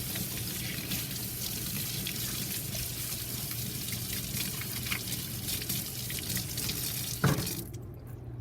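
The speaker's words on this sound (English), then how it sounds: "I'm gonna turn on my water." Tap water runs steadily into a sink for rinsing paint brushes, a continuous close splashing stream that cuts off abruptly near the end, leaving near silence.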